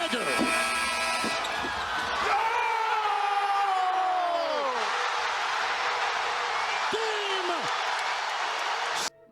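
A packed NBA arena of about 20,000 fans erupts after a decisive basketball shot, a loud, sustained roar with rising whistle-like tones and shouting voices layered over it, filling the whole stretch before cutting off abruptly.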